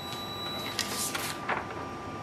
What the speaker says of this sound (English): It's going to print the printer test page.